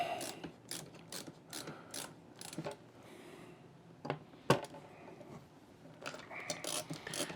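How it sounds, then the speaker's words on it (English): Screws being driven into the metal back plate of a computer build: quiet, close ratcheting clicks of a screwdriver in short bursts, with a sharper metallic tap midway and no talking. "you can kind of see I'm alternating which screws I screw in"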